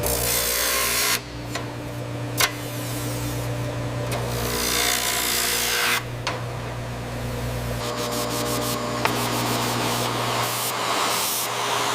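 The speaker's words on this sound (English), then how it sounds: "We cut to a reference line so every brim edge becomes identical" A motor-driven trimming tool cutting a helmet brim edge to a reference line in a helmet factory, producing a loud continuous whirring grind with brief pauses and changes in pitch, no voices.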